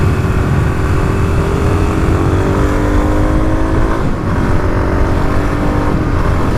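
A Kawasaki KLX351 dual-sport motorcycle drones loudly and close on gravel roads, its engine holding a steady pitch with slight rises and dips as the rider throttles along.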